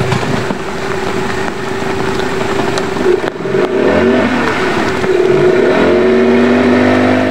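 Motorised dugout canoe engine on a muddy river in Mentawai, a steady loud droning motor that shifts pitch and revs slightly partway through, heard alone without talk.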